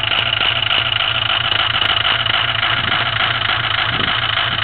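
A 2007 Ford Powerstroke diesel idling just after a cold start, a steady loud close-up rumble with an even, rapid clatter throughout and no pauses.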